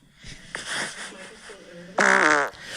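A fart sound effect with a harmonizing, trumpet-like tone, a brassy blast with stacked pitches bending downward, loud and alone after quieter breathy noises and a faint voice.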